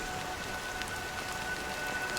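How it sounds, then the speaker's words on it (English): Rain falls steadily in the video game Honkai: Star Rail, a soft, even hiss with scattered drops and no voices. "But it's still raining."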